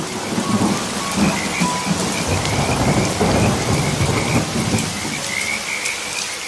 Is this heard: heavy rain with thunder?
yes